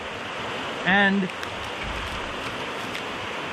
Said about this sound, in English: Look how high that water is. How fast that water is ripping under that bridge.